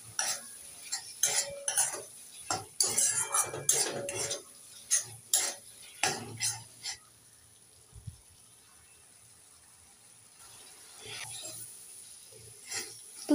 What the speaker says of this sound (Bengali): এবার একটু নেড়ে চেড়ে 1 মিনিট মশলাটাকে কষে নেব।